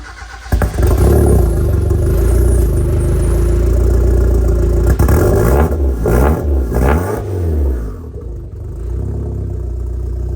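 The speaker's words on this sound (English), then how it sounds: "Need you to start the car." A turbocharged Mazda Miata fitted with a brand-new exhaust starts and runs close by, its loud engine revving and settling through several throttle blips before dropping back toward idle.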